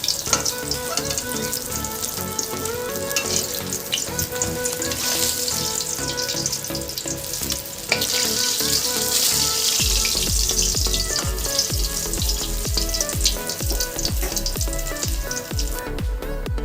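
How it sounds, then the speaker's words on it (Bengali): Pieces of katla fish fry lightly in hot oil with a continuous, fairly loud sizzle that runs throughout, under a tonal musical background, and a deeper rumble joins partway through. "মাছটা ভাজা হয়ে গেছে, এবার একে একে তুলে নেব।"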